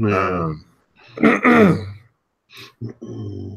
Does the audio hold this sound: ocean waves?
no